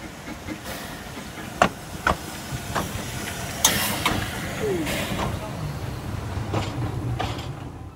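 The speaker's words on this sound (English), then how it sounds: "We then had to wait for number 4, Edward Thomas, to pass us with a train." On the narrow-gauge Talyllyn Railway, locomotive No. 4 Edward Thomas passes with a train, giving a steady hiss with sharp clanks and knocks scattered through it, fairly near.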